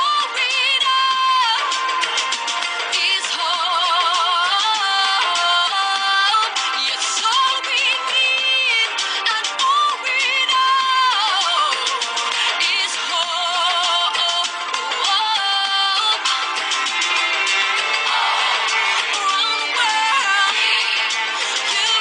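Pop song by a competition finalist, playing on radio, with a female-led melody over a full band mix, steady and loud throughout with no talk.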